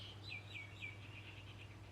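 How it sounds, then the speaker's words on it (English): Birds chirp outdoors in a short series of repeated high tweets, moderately faint over a steady low hum and background noise, with no talking. "Y'all can hear the birds chirping."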